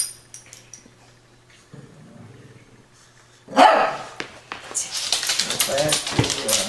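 Several dogs bark in a chaotic burst at home, loud and close after a quieter stretch, with clattering dishes and a voice talking underneath.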